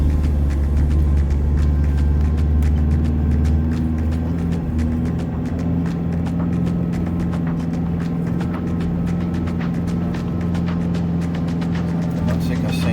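A vehicle drives along the sandy beach of K'gari (Fraser Island), its engine a loud, steady low rumble throughout, with faint scattered clicks and rattles riding over the continuous drone.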